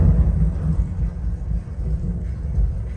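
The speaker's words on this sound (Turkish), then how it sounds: "Gök gürültüsü sahnesi." Deep, continuous rumbling like rolling thunder, a movie thunder scene played loud through an XTZ subwoofer, filling the whole stretch with no pauses.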